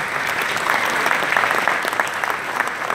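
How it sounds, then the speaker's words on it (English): At a business conclave at the Bombay Stock Exchange, an audience claps in steady, dense applause. The clapping sounds fairly close and loud and runs through the whole clip. "So give him a big round of applause,"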